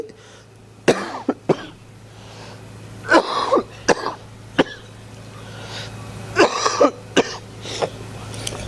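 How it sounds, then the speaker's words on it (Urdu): Several harsh coughs and throat clearings break out in short bursts over a low steady hum, close to the microphone. "میری کھانسی کی آواز آپ کے کانوں پر اگر بار گزرے"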